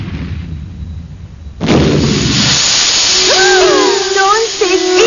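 A flash bomb goes off as an anime sound effect: a sudden loud, bright burst that settles into a sustained roaring hiss, with high sweeping tonal squeals rising over it near the end.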